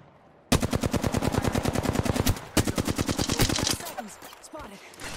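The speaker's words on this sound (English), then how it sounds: "Where is he firing from?" Automatic weapon fire in the Apex Legends video game, two long rapid bursts of loud gunshots with a short gap between them, followed by quieter in-game clatter.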